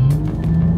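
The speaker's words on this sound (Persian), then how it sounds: "بعد صدای یه لحظه گاز دادم صداشو بشنوید" An American car's engine gives a brief, loud, steady drone with a throaty hum as the driver presses the gas on Kish Island.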